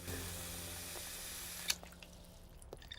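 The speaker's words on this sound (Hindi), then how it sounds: "चलो हम हाथ धो लेते हैं।" Tap water running steadily into a sink for hand washing, a soft continuous wash throughout with a couple of small drips and clinks near the end.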